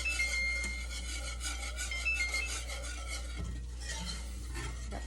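Cold milk being whisked into a roux for chipped beef gravy, a continuous rapid scraping and swishing of a whisk against the pan over a steady low hum, close and even throughout.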